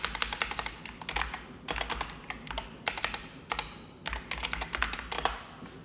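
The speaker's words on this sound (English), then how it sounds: "I feel like I'm typing on a typewriter" Fingers clatter quickly on a computer keyboard in close, crisp bursts of keystrokes separated by short pauses, with no voices.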